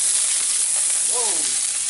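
Rice for chicken fried rice hits a hot wok with a loud, continuous sizzle and hiss that fills the whole moment, with a short tonal squeak of stirring partway through.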